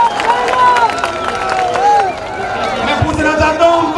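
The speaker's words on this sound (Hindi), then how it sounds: "ये आप ताली बजाकर एक बार सीएम साहब को पूरा स्वागत दें।" A large crowd at a public rally clapping to welcome the Chief Minister, a loose burst of applause and cheering mixed with babble and a loudspeaker voice over the hall.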